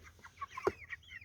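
Young chicks on a roost give a few short, soft clucks and chirps in a brief quiet burst, close by, with no talk.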